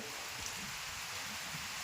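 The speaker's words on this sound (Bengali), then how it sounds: "এখনও বৃষ্টি হচ্ছে।" Steady rain after days of heavy downpour, a soft even hiss of falling drops heard faintly and continuously with no voices.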